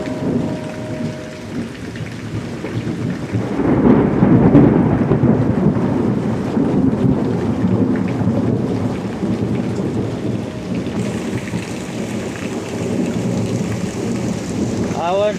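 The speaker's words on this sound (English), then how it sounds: "I can't hear it over the constant thunder." Severe thunderstorm in Pittsburg, Kansas: heavy rain pours steadily on surfaces while thunder rumbles and rolls near and loud, swelling midway and carrying on without talk.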